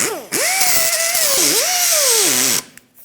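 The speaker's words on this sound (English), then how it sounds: "I want to take a sanding disc and actually sand down these sharp" A power tool with a sanding disc whines at a high pitch and grinds steadily on sharp metal on a Ford Focus rear trailing arm, its tone sagging and rising as it bites, then it spins down and stops.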